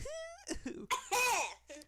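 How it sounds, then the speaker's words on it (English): A person clears their throat a few times in quick, rough bursts with a short laugh-like sound between, close and fairly loud. "Sometimes just gotta clear your throat a little."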